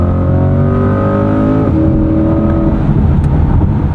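A 2025 Chevrolet Corvette Stingray engine roars loudly up close, its pitch dipping as it downshifts into second under hard braking, then building steadily again with a continuous powerful drone.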